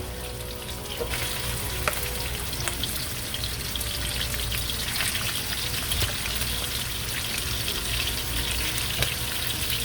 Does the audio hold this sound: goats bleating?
no